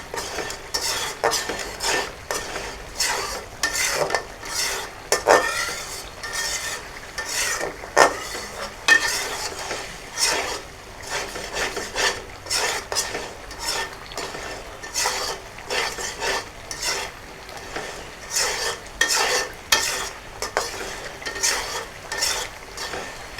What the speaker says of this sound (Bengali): দুনা পেঁয়াজ মশলা সবগুলো আমি সুন্দরভাবে কষিয়ে নিচ্ছি